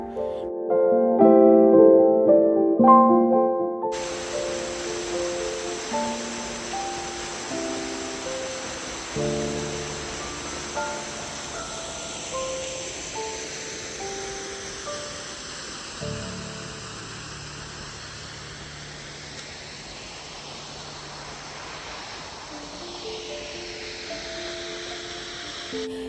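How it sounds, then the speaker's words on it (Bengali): A steady, full roar of water pours down at Marymere Falls deep in a Washington forest, rising after a few seconds of music and continuing as a constant rushing wash with faint music layered over it. "প্রায় অনেক দূর থেকেই শুনছিলাম গভীর জঙ্গলের ভেতরে জলের আওয়াজ।"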